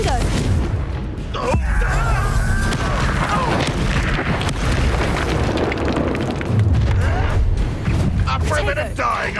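Confringo fire-blast spells going off in the Hogwarts Legacy video game, loud booming explosions and crackling bursts in fast succession amid combat noise, with voices talking over them.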